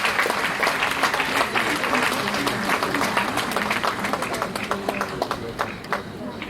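Audience applause at a school annual prize distribution ceremony in Noida, honoring prize winners: dense, steady clapping from a large crowd filling the room, sustained for several seconds with a faint voice underneath.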